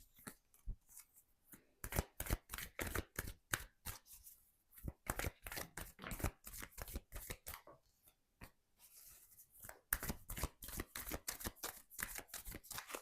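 Tarot cards handled and shuffled during a French tarot reading, giving a long run of quick, crisp riffling and slapping bursts in uneven clusters, close and fairly loud, with no talking.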